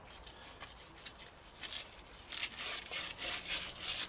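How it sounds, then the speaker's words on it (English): Black sandpaper of roughly 240 grit rubbed by hand on a truck battery, giving soft, close rasping strokes that grow louder and more rhythmic toward the end. "And now a piece of black sandpaper."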